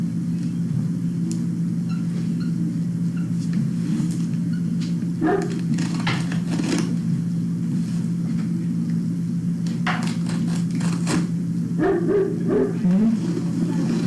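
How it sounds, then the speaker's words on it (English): A dog lets out a run of loud barks in bursts over a constant low rumbling hum, some barks clustered together and others spaced apart, all close by. "She got a loud bark."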